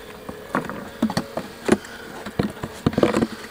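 Honeybees at an opened beehive, a low steady buzzing hum broken by close, irregular crackles and thuds, with louder bursts clustered near the end.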